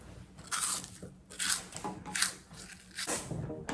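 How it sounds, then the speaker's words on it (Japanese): Someone crunches and chews Japanese dagashi snacks up close, with bursts of crisp crunching repeating about every half second between quieter pauses. "今流行りの咀嚼音ってやつだ"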